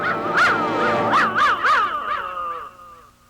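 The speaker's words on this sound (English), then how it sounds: "Bark real loud." A dog gives a quick series of high, yelping barks that slide into whiny, whimpering tones, close and fairly loud, fading toward the end with no talking.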